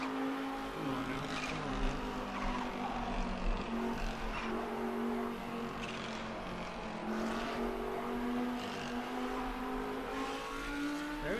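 A car engine holds a higher gear in the No Hesi driving game during rush hour in Japan, a steady close drone whose pitch climbs slowly, with faint tire and road noise underneath.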